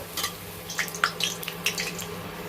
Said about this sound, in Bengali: তেলের মধ্যে এক হাতা করে মালপোয়াগুলো ছেড়ে দিচ্ছি ছেড়ে দিয়ে এর মধ্যে আমি কিন্তু লো টু মিডিয়াম হিট দিয়ে এগুলোকে ভাজবো